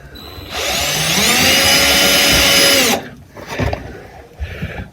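Cordless drill set to full-torque drill mode boring into a homemade anchor stake, a loud high whine lasting about two and a half seconds, then brief clunks and handling noises.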